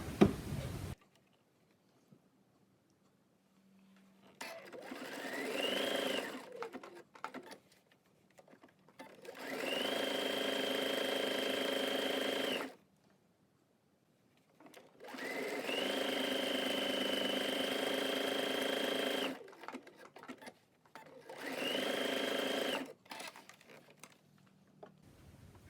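A sewing machine runs back and forth over the nose wire channel of a pleated fabric face mask, with several whirring bursts of stitching, two of them long and steady, separated by quiet pauses and soft handling clicks, close by.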